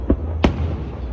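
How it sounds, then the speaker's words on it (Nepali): July 4 fireworks burst nearby as two sharp, booming pops a fraction of a second apart over a low background rumble. "आज जुलाई 4 मा यसरी"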